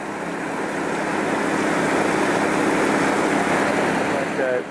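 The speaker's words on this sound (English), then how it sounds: "we're just going to let it run for a minute or two more just to allow the blonde sand to wash out of the riffles" Water rushes steadily through a production cleanup gold sluice, washing blonde sand out of the riffles, a broad, continuous close-up wash with no breaks, and a voice briefly audible near the end.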